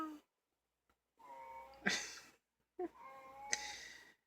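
Two drawn-out, wavering cat meows, each rising then trailing off, separated by a brief silence; fairly close and moderately loud.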